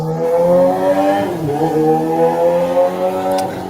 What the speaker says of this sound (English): it's a motorcycle going by.